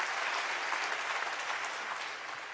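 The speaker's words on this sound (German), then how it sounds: "Alle, die jetzt Beifall klatschen" Sustained applause from a lecture audience at a conference, dense and steady clapping filling the whole stretch, loud and close, easing slightly near the end with no talk over it.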